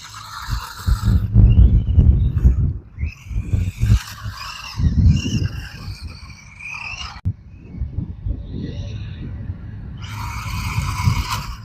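A Rage RC Mini Trek radio-controlled car with a brushed motor runs at full speed, its motor whining and tires squealing in surges that rise and fall, while voices talk intermittently over it.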